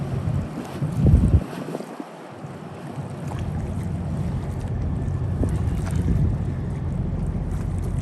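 A Wellcraft center console motorboat's engine drones steadily amid wind buffeting and water wash at Fort Lauderdale, a gust of wind noise early on, the boat staying at a fairly constant distance.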